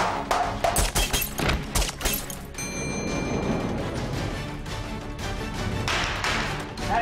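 Prop gunfire on a film set during a take: a rapid cluster of sharp, loud shots in the first couple of seconds, followed by a steadier, quieter background wash.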